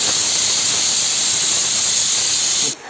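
Pressure cooker whistling while cooking meat on a gas stove: one loud, sustained, close steam hiss that holds steady for nearly three seconds before cutting off abruptly.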